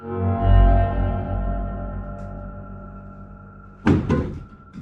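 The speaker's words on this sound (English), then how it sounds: "the wardrobe door opens and closes repeatedly" A wardrobe door in a quiet room sways with a long, resonant creak that fades slowly, then closes again with a couple of sharp knocks and thuds near the end.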